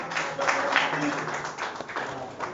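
Audience applause welcoming deputy information minister Kapil Verma to the stage at a foundation oath ceremony, a steady wash of clapping from a crowd with voices mixed in throughout.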